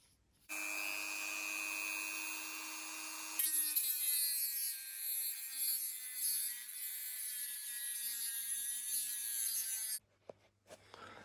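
A blade or small tool cuts around the metal lip of a vacuum actuator canister from a 1974 Jensen Interceptor heater, a steady high whine that shifts to a rougher, grinding tone midway before stopping abruptly.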